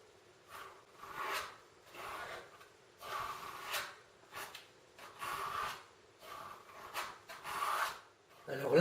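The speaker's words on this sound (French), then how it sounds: "Je recharge le couteau dans l'autre sens et je tire." A palette knife drags paint across a canvas in repeated rasping strokes, each a soft scraping swell lasting about a second, close and fairly quiet, with short pauses between strokes.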